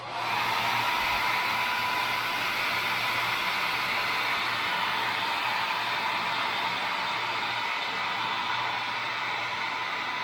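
A hair dryer blows on wet paint on a carved wooden caricature cowboy bust, a steady, loud whooshing roar that holds unbroken for the whole stretch.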